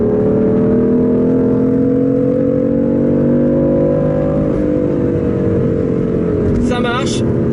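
A BMW diesel car engine drones loudly and steadily from inside while driving, its pitch rising slowly and then dipping, with a brief higher whine near the end.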